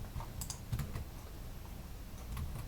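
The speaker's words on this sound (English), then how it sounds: "and you have to type it in." Soft, quick keystrokes tap on a computer keyboard in short irregular bursts, quiet and close against a faint background hum.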